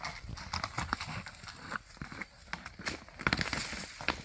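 A six-year-old palomino and white Tennessee Walking Horse wades through a creek, its hooves clip-clopping in an irregular walking rhythm with splashy thuds, close by and moderately loud, no talking.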